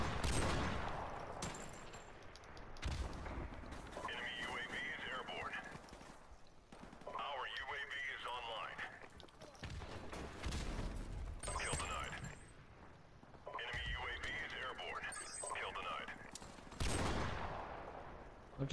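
Bursts of video game gunfire from a sniping match crackle in several loud volleys between short gaps, with a player talking over and between the shots.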